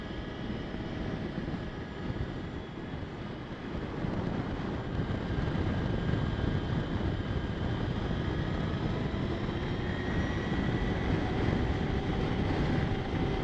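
A Victory Empulse TT electric motorcycle pulls away and rides on, giving a steady broadband rush of wind and road noise with a faint, thin motor whine. It grows louder after the first few seconds and holds level, with no talking.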